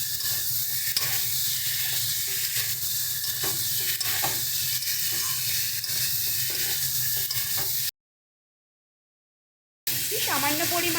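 Fried cauliflower being stirred into a sizzling fish curry in a pan, a steady scraping and frying hiss that runs close and continuous, breaks off briefly, then resumes.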